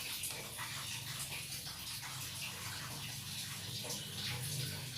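Water pours steadily into a bowl of lotus-petal batter, a continuous close splashing gush with slight fluctuations and no speech.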